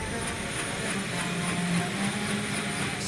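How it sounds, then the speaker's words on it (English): Military helicopter in flight during heliborne training, a steady, loud rotor and engine drone holding throughout with no break. "Next, the recruits begin the heliborne training phase."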